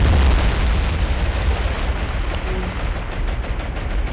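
Bombs explode in the naval game War on the Sea as a dense, heavy low rumble that fills the whole stretch, loud and continuous with no talk.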